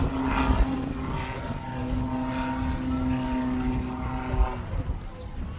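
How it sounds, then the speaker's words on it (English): Yak aerobatic propeller aircraft performing stunts at the Midlands Air Festival, its engine giving a steady, loud droning hum with a sustained tone throughout, swelling slightly as it passes. "the torque of the engine is what keeps the aircraft rolling"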